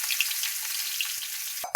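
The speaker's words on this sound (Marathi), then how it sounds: "तेलात फ्राय करायची बरं का" Soaked dried bombil fish fry in hot oil, a steady close crackling sizzle with small pops, ending in a couple of sharp clatters as the pan is stirred.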